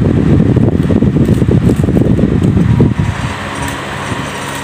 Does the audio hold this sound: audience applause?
no